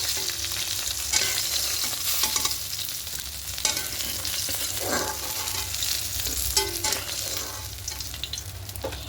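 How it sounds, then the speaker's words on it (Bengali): Hilsa fish heads frying in hot oil in a pan, a steady bright sizzle with occasional scraping and stirring clatter, close and continuous throughout. "পাঁচটা হালকা একটু লাল করে ভেজে নেব মাথাগুলো"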